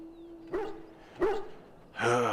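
Mabari war dog from Dragon Age Origins barking in a pen: three short separate barks or yelps, the last louder and more tonal, over a quiet game-ambience background.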